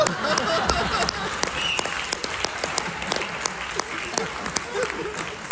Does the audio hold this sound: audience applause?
yes